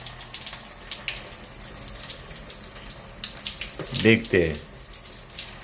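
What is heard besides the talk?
shower running water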